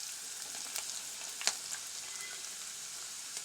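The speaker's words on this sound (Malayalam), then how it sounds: "ഇഞ്ചിയും പച്ചമുളകും വെളുത്തുള്ളിയും കൂടെ അരിഞ്ഞ് വെച്ച് ഇട്ട് കൊടുക്കുകയാണ്" Sliced ginger, green chilies and garlic fry in a pan for mango pickle, making a soft, continuous sizzle with a few faint crackles and pops.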